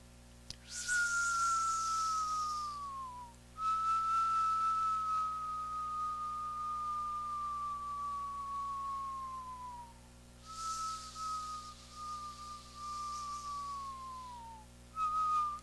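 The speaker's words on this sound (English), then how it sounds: "We'll inhale and we will exhale with a whistle." Long whistled exhales during a breathing exercise: a soft breathy whistle slides slowly downward in pitch over several seconds, three times, separated by quiet inhales over a low background hum.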